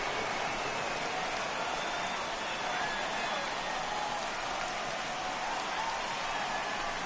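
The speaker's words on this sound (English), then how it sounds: "The rain coming down as it is, we are in for a long delay" Steady heavy rain pours down over a ballpark in the baseball video game MLB The Show 18, a dense, even hiss that stays constant and loud throughout with no pauses.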